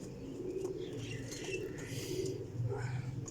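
Cooing of domestic Teddy breeder pigeons in a loft, a low soft rolling murmur running steadily throughout at close range, with faint chirps and wing rustles above it and no talking.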